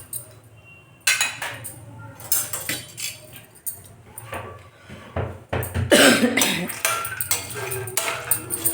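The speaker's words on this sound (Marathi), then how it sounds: "गरम होऊ दे आणि आपले काजू बदाम भाजून घेऊ याच्यात" Cashews and almonds dry-roasting in a pan for fenugreek laddoos, with irregular clinks and scrapes of the nuts and spoon against the metal, busier and louder in the middle, alone without talk.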